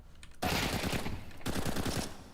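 Automatic pistol fire in a first-person shooter game, set to an AK-like fire rate: two quick bursts of rapid rattling shots, loud and close, with no talk over them.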